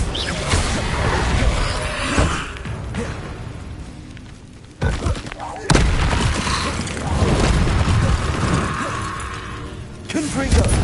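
A Confringo fire spell bursting in Hogwarts Legacy, sharp booming impacts with crackling blast tails, one heavy hit around the middle cutting through dense combat noise, with a voice talking over it.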